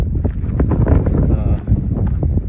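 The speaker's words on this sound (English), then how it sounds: "You can hear the wind blowing. It's been very windy today." Strong wind on a mountain trail near Mount Jefferson buffets the microphone with a loud, rumbling roar that continues throughout.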